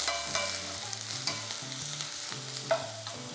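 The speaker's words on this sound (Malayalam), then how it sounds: "ഒരു പച്ചമുളക്, വളരെ കുറച്ച് ഇഞ്ചി, ഒരു 1/4 ടീസ്പൂൺ ഇഞ്ചി, ഒരു സവാള. ഇതെല്ലാം കൂടെ ഒന്ന് വഴറ്റുക." Chopped onion, green chili and ginger sautéing for dal fry, a quiet sizzle in the pan with a few scraping stirs and soft clinks, no voices.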